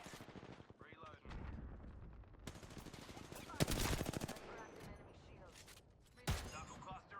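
Gunfire in the Apex Legends battle royale game, with bursts of automatic shots and a few sharp single cracks amid game noise, alongside in-game character voice lines.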